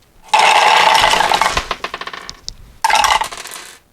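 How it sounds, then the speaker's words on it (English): A handful of dice dumped through a dragon-themed dice tower rattles loudly in a dense clatter that thins into scattered bounces, then a second cascade of clattering follows. "All right, here's a whole bunch more. We'll just dump them in really quickly."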